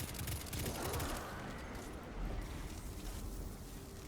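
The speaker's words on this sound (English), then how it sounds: "I'm going to shoot one at the knight and use my pulse rifle with adaptive munitions to break the" Pulse rifle fire in a Destiny 2 master lost sector, rapid bursts of shots over game sound and effects, moderately loud with no talking.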